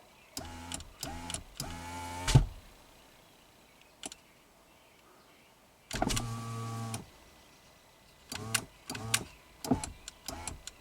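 A Subaru power window motor drives the glass in short bursts, several quick whirring pulses, then a longer run and more brief stuttering runs, close and clear in a quiet car.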